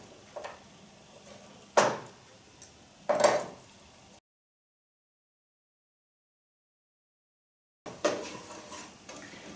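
Kale salad ingredients being handled in a kitchen, with a few distinct clinking knife and utensil knocks against a board or bowl, then a silent gap before more clatter.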